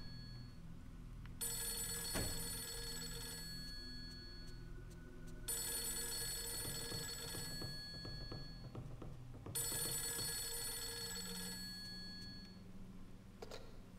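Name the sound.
telephone ringing in Fatal Frame 3 video game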